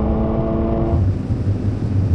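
A Toyota GR86 drag racing a turbocharged Supra Mk4, heard from inside the car as a steady, loud engine rumble and drone that holds a rising harmonic tone, then settles into a rougher low roar.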